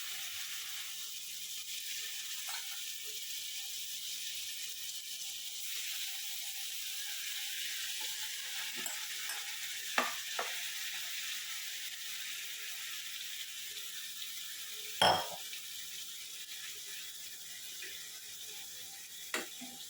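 Chicken pieces fry in butter in a pan for restaurant-style butter chicken, giving a steady, fairly quiet sizzle with a few sharp clicks and clatters and no voices.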